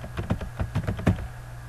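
Quick typing of a password on a computer keyboard: about eight soft, close key taps in an uneven rhythm, then a short quiet tail, with no voices.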